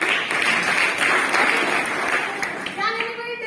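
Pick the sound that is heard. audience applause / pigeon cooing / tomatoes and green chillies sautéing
audience applause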